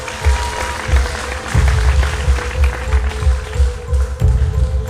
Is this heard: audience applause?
yes